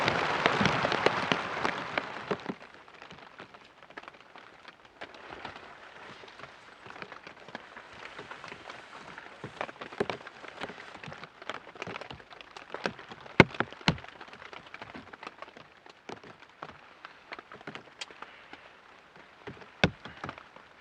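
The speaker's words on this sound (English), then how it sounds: "the rain was coming directly in through the opening" Rain during a thunderstorm pours onto a tent at a campsite. A louder rushing burst at first gives way to steady, soft pattering with scattered sharper drops close by.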